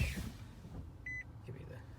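Nissan Leaf electric car switching on, a single short electronic beep sounding faintly inside the cabin amid quiet background noise.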